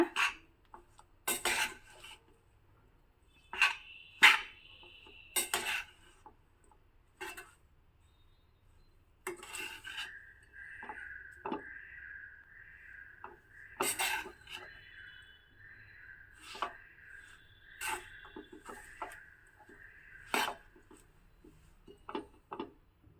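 A spoon scrapes and taps against a pot while lemon-soured rice, temple-style prasad, is mixed: intermittent raspy strokes and clinks in irregular bursts, close and fairly quiet, with no talking.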